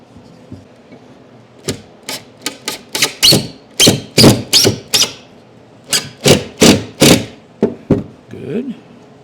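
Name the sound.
driving a screw into plywood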